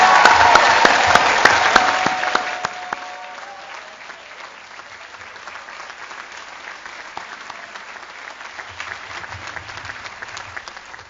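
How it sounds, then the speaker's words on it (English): A crowd at a school prize day applauds loudly, a dense wash of clapping that gradually fades and thins out over several seconds. "let's begin by giving a huge round of applause to the form of 2018"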